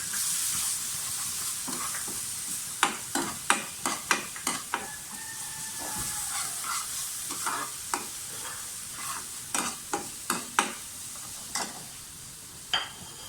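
Whole cumin and coriander seeds sizzle and crackle in about two tablespoons of hot ghee in a pan, a steady frying hiss broken by many sharp, rapid pops and spoon scrapes, close up and with no talking.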